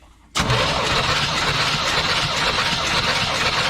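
A 461 big block engine cranks over steadily during a compression check, a loud continuous churning drone that starts abruptly and runs without letup to the end.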